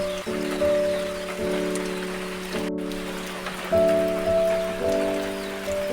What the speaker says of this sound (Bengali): তবে এই বৃষ্টি থামার বলে মনে হচ্ছে না